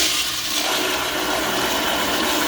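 A toilet fitted with an Aquasensor flush valve, triggered by its manual button, flushes in one steady, loud rush of water close to the microphone, with no talking over it.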